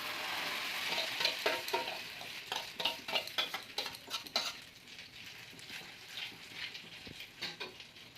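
An egg and Maggi noodle mixture fries in oil in a pan with a soft sizzle, overlaid by clicks and scrapes of a utensil stirring against the pan, fairly quiet overall.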